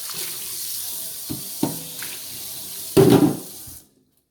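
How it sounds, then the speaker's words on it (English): Something is rinsed off under a running kitchen tap, with a soft steady water stream, a couple of light knocks, then a louder splashing rush near the end before the tap shuts off and the sound falls silent. "let me rinse this off."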